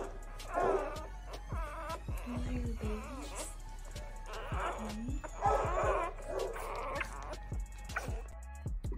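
Litter of newborn puppies whimpering and yipping close by, a run of high thin cries and squeals in repeated bursts, with soft rustling between them.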